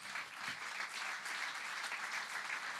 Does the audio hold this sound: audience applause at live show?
yes